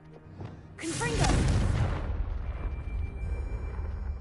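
A Confringo spell explosion in the Hogwarts Legacy video game bursts with a single loud, booming blast that rolls into a long, fading rumble, just after a voice casts it.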